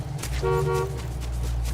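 A car horn honks in the Fortnite video game, giving a short toot with a distinct tonal blare in the middle, fairly close, over a low steady engine rumble, without voices.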